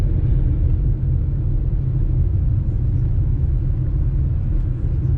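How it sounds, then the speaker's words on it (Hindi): A 2026 Tata Nexon diesel Creative Plus pulls hard in third gear as its turbo kicks in, giving a loud, steady low engine rumble from inside the car throughout. "ये आपको तीसरा गियर मांगा और देखना एकदम से इसका टर्बो ऑन हो जाता है और ये गाड़ी भागती है।"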